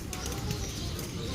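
Racing pigeons cooing at feeding time, a soft, continuous murmur of coos and flutters packed close together, with someone talking over the flock.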